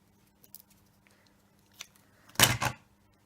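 Scissors being handled while crafting a paper Easter gift box with foam tape, with a few faint clicks and rustles followed by a louder close snipping burst, no talking.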